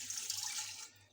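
Water is poured into a pressure cooker holding fried bitter gourd and mutton, a brief, soft splashing stream that tapers off quickly.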